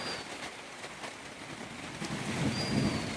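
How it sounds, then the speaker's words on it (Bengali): Rain falling steadily outdoors, a broad moderate hiss of drops that swells slightly toward the end, with no voices. "তো একটা রহমতের বৃষ্টি নামতেছে"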